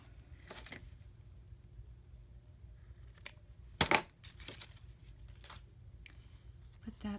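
Scissors cut paper in a few crisp snips, with one louder cut in the middle, close and quiet amid light handling noise, while a person talks softly.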